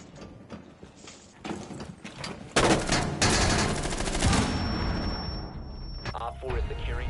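Gunfire in the Rainbow Six Siege video game comes as rapid, loud bursts of shots, building from scattered pops into a dense volley that fills the middle of the clip, with a player talking over parts of it.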